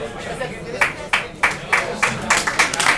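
Cabaret audience clapping in a series of sharp, distinct claps that grow quicker and denser toward the end, fairly close and loud, with a performer's voice in between.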